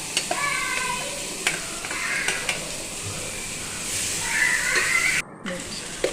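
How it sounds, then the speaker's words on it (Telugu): Washed toor dal and turmeric fry in a pan with a steady sizzle and occasional scraping stirs, close by. "బాగా ఫ్రై చేసుకోండి."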